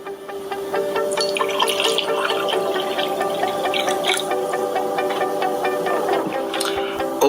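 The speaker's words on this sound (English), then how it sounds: "Unfiltered tap water, which we will pour in 2 glasses." Unfiltered tap water pours continuously into two glasses with a bright, splashing trickle that rises in pitch as the glasses fill. The sound is steady and close.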